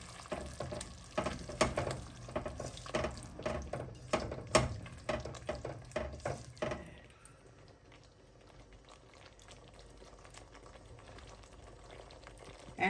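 Meatball curry sizzles and bubbles in a pan while a utensil scrapes and clatters in repeated strokes, then the stirring stops and a soft simmer remains.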